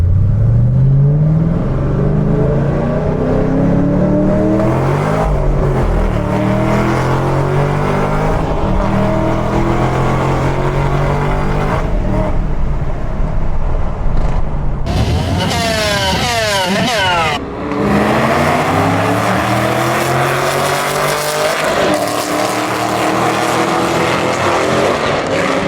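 A 650hp Chevrolet Camaro ZL1 in Sport 1 mode accelerates hard, its loud engine revving upward through several climbing sweeps with gear changes, then a rapid burst of higher revs before pulling on strongly, close and continuous.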